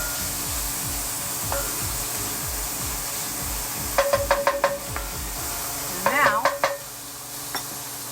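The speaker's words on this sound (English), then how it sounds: "These are my red onions. I'm going to let these get simmered down for like maybe 1 minute or 2 minutes" Red onions sizzle softly in a pan under a low steady hiss, while bursts of bright utensil clatter and clinking ring out twice partway through.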